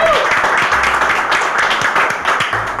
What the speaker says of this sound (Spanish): Un fuerte aplauso para el señor Cristian Enríquez Roberto.